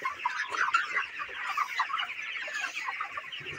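Broiler chickens about thirty days old cluck steadily in a crowded poultry farm shed, a dense, continuous chorus of overlapping calls close by with no talking.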